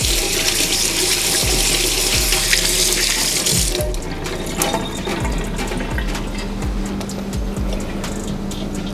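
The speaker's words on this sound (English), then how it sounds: "Well, I'm just gonna wash them all." Kitchen faucet running hard as harvested produce is washed, a loud rushing stream that cuts off partway, leaving clattering handling sounds and dripping.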